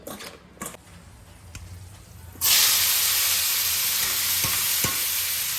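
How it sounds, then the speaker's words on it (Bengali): Bitter gourd and pumpkin pieces, coated in salt and turmeric, drop into hot oil and burst into a loud, steady sizzle that carries on after a quieter start with faint kitchen clatter. "এখানে উচ্ছে কুমড়ো কেটে লবণ হলুদ মাখিয়ে রেখেছি একসঙ্গেই ভাজবো"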